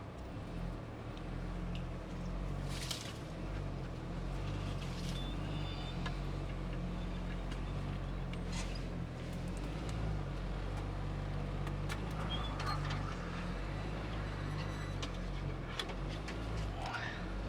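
Ford Bronco Sport with the Sasquatch package crawling off-road with the rear differential unlocked, a steady low engine drone with rumbling and occasional knocks and creaks from the body, continuous and close throughout.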